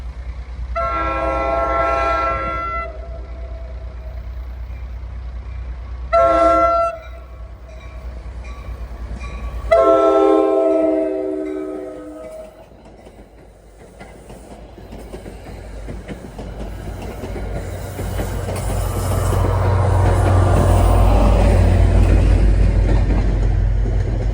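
An F40PH-3C diesel locomotive, formerly a New Jersey Transit F40PH-2, sounds several loud horn blasts as it approaches on the former Erie Main Line. A rising engine roar and rumbling wheels follow as the train passes close by.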